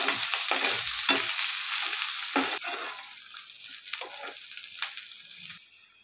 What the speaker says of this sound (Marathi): आणि आता ह्याच उरलेल्या तेलात आपण कांदा तळूया.